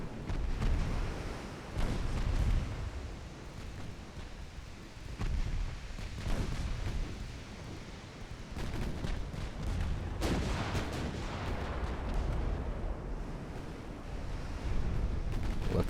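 Naval gunfire from battleships and armored cruisers in a 1904 French campaign battle game, with repeated heavy booms rolling over a constant low rumble, some shots sharper and nearer than others.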